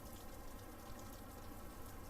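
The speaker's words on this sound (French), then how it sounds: "moi j'étais là, à observer la pluie" Steady rain falls at the end of summer in September, a faint continuous hiss with dense, even patter and no other sounds.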